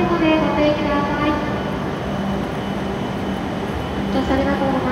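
An E7 series Hokuriku Shinkansen train, set F25, pulls in and stops at platform 13 of Kanazawa Station, its broad rumbling roar filling the platform at close range with faint station sounds mixed in.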